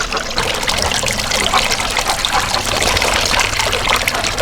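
Water trickles and splashes steadily at close range at a drinking spot on Vodno, a constant bright liquid wash with no pauses.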